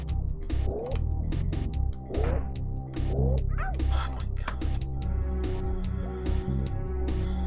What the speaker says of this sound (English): kind of sound like a weird cat when he gets hit.